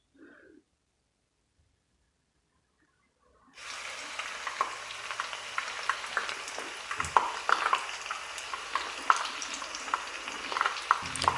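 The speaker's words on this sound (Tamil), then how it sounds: "சிக்கனை தள்ளி தள்ளி போட்டு ஃப்ரை பண்ணுங்கள்" Pieces of chicken 65 drop into hot oil after a few seconds of near silence, breaking into a loud, dense, crackling sizzle that continues with small pops to the end.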